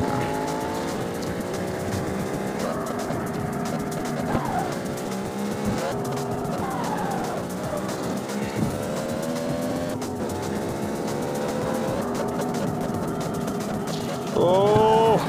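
A car drifting on a mud road in the racing video game CarX Street, with a continuous revving engine whose pitch rises and falls as the car slides, plus tire squeal, loud and unbroken throughout.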